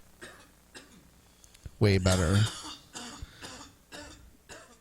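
A harsh, loud cough after a bong hit bursts out mid-clip, with brief speech and breathy sounds before and after it.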